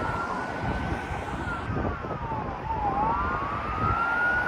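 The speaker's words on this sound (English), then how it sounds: "And we got more sirens on the way." Emergency vehicle sirens wail along a busy Toronto street, police cars and an ambulance approaching, their rising and falling tones sweeping steadily over constant traffic rumble, loud and continuous without pause.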